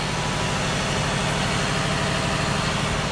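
Engine room machinery on a 38 metre Delta Marine superyacht, a loud, constant broadband drone with a steady low rumble and no pauses.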